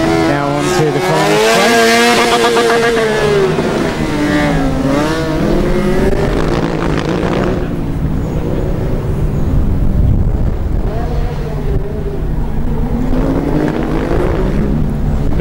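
Formula Student race car at an endurance event changing gear, engine note sweeping up and dropping as it passes, loud and close with wind noise, then fading, under a commentator's voice.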